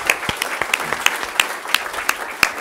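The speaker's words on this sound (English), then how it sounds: "So please give a round of applause for the Public Sector Remix." Sparse applause from a small audience at an award ceremony, with scattered individual claps in a loose, uneven rhythm, moderately close, over a light room murmur.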